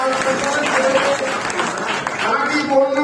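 An audience claps for a newly elected state general secretary at a party gathering, dense applause filling the room throughout, with voices heard over it.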